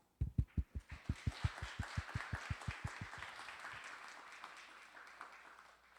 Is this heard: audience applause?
yes